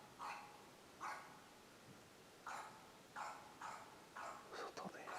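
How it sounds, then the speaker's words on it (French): A dog barks repeatedly at night from some distance, sharp single and double barks spaced irregularly, faint and hollow against a quiet background. "le chien il aboie depuis tout à l'heure"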